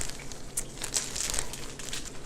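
Plastic bag being squeezed to push the air out, a close, continuous crinkling and rustling with small crackles.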